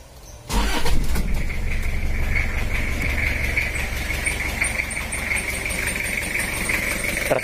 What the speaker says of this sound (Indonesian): kita coba hidupkan dulu untuk mesinnya